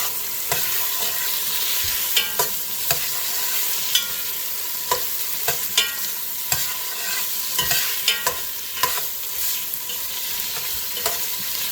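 Tomatoes frying in a pan while cooking sinigang na baboy, a steady close sizzle with repeated sharp stirring scrapes and clacks, no voices.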